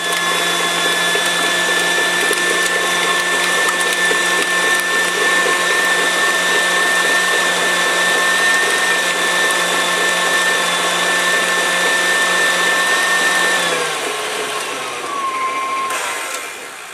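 An electric mixer creams ingredients for pumpkin bars at high speed, a loud steady motor whine with a constant pitch that drops and slows near the end as the speed changes.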